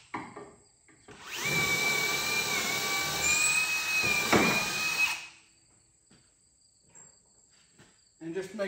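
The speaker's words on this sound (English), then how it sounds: "I'm going to drill through here" Power drill boring through a truck running board on a Ford F-250 7.3L, a loud steady whine lasting about four seconds, then stopping into near quiet with faint handling noises.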